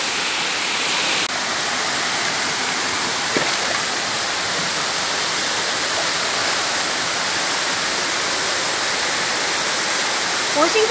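A waterfall on a cliffside trail roars in a steady, dense rush of falling water, loud and unbroken throughout, with a brief faint voice near the start.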